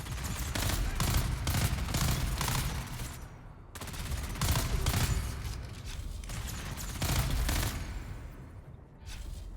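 Sustained, heavy volleys of missile wand fire from elite guards in Dune Awakening, loud and continuous with rapid repeated shots and two short pauses between bursts.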